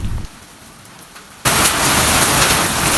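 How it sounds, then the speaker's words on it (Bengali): During a hailstorm, heavy rain and wind give a low rumble and patter that suddenly swells into a loud, dense roar of downpour and continues strongly to the end. "আপনারা দেখতে পাচ্ছেন আমার ভিডিও চিত্রতে যে প্রচুর পরিমাণ বৃষ্টি এবং বাতাস আজকে বয়ে যাচ্ছে"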